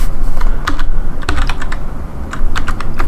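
Rapid typing on a computer keyboard, with bursts of loud, close key clicks that pause briefly partway through and then resume, with no voice present.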